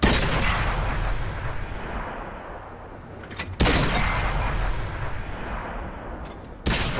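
Tank cannon shots in World of Tanks on console, two loud booming blasts a few seconds apart, each followed by a long rumbling decay, with no talking.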